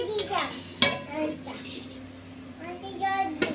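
Clinks and clatters of dishes and cutlery while serving a home meal of dal, fried potatoes and potato-pointed gourd curry, a few sharp knocks between a child's speech.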